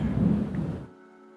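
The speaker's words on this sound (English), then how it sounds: "I'm not really too sure if you can actually hear the thunderstorms, but it's really loud though" Game thunderstorm in I Know Who You Are: a loud, broad low rumble lasts about a second, then cuts off abruptly, leaving only a faint steady tonal hum.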